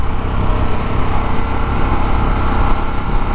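A 2021 Harley-Davidson Sportster S engine pulling hard in sport mode on a demo ride, a loud, close, continuous low rumble holding steady throughout with no talk.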